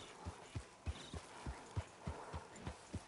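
Horse hooves clip-clopping at a steady walking pace in Red Dead Redemption 2, about ten soft, evenly spaced thuds, close and fairly quiet with no talk.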